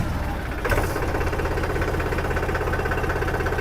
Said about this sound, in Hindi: ये हमारा ट्रैक्टर चालू हो गया।